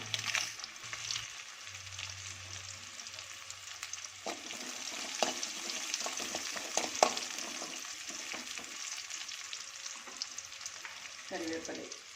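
Onions and chillies hit hot oil for papaya moru curry, a soft crackling sizzle with stir clatter, fairly quiet and close.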